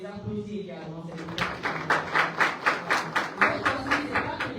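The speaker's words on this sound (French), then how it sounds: "Merci infiniment à vous et on les applaudit également." An audience claps at a hotel event, first faintly under a speaking voice, then as a louder run of distinct, evenly spaced claps that dominate the rest.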